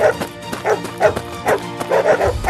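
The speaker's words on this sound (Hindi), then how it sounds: "कुछ जंगली कुत्ते आर्यन के पीछे पड़ जाते हैं।" Wild dogs in a cartoon bark in rapid, repeated yips and yelps, several close, loud barks in an uneven rhythm with whimpering tones mixed in.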